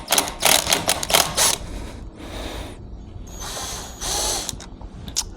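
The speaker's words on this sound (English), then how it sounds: "Now for taking this bolt off, I like to use an impact. I use this Craftsman one" Craftsman impact wrench spinning a bolt off a 2025 Honda Grom motorcycle, several loud rattling hammering bursts with pauses between, close and without talk.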